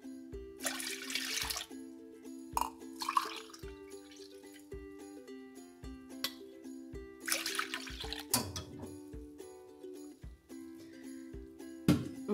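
Warmed water being poured into a bowl for sweet bun dough, heard as two splashing bursts of pouring over steady background music.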